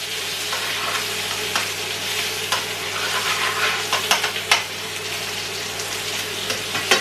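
Pork belly sizzles loudly in a very hot pan on an induction stove, a dense continuous fry with bursts of spitting and crackling pops close by, no voices.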